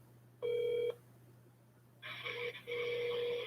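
Two bursts of touch-tone telephone dialing, a steady dual-tone beep followed after a pause by a longer run of tones, with a low constant hum underneath and no talking.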